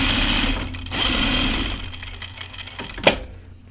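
A domestic sewing machine stitches a lined jacket in short mechanical bursts, a steady rattling hum that starts and stops, with a sharper clack near the end as the run finishes.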